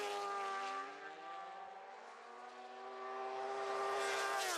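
A PHR Triumph supersport racing motorcycle at the 2023 Isle of Man TT races screams past at high revs, its howling engine note holding loud and close before dipping slightly and then surging again.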